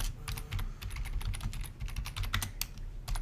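Quick bursts of typing on a computer keyboard, close and fairly quiet, with irregular clusters of key clicks and short pauses between them.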